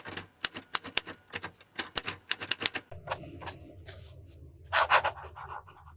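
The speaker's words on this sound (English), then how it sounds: "The next writing sample is done in a composition lab notebook." A fountain pen with a soft fine nib writes in a composition lab notebook, giving a run of quick close scratchy taps and strokes, then a softer continuous rubbing with a louder scratch near the end.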